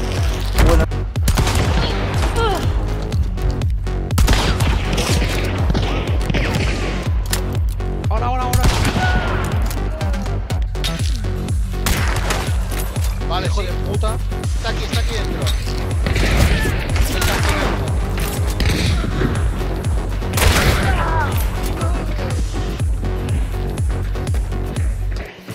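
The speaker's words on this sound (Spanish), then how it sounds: "por detrás me han disparado" Rapid, loud gunfire from Hunt: Showdown hammers on without letup, shots packed tightly in repeated volleys, close and dominant, with brief speech mixed in.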